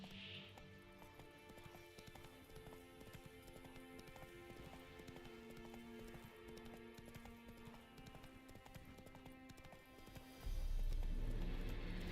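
Hooves of Roach, Geralt's horse in The Witcher 3: Wild Hunt, clip-clopping at a steady walking rhythm, faint and close under soft ambient music, ending in a sudden louder rumble near the end.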